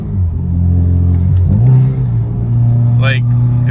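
Close inside a dyno-tuned turbocharged car after a downshift into third, the engine holds a deep steady rumble, then the pitch swells and rises briefly as the throttle is pressed.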